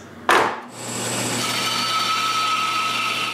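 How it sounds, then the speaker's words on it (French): A saw tip is unscrewed and a stuck piece of wood pushed out of the saw: a sharp knock, then a steady whirring, rubbing noise that runs on close and fairly loud, with no talking. "Je dévisse la pointe et je pousse pour enlever le bout de bois."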